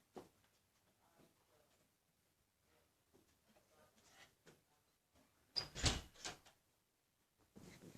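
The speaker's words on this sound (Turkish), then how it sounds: "Kapıyı kapadım." A door closes indoors with one sharp, loud thump after soft scattered rustling, followed by faint movement.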